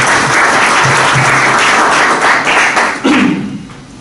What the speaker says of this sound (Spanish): pido igualmente un aplauso para